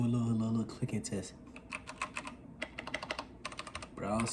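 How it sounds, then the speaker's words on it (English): Typing on a Dierya T68SE mechanical keyboard with brown switches: a quick run of close, crisp key clacks in an uneven rhythm, with someone talking briefly before and after. "Let's do a little clicking test."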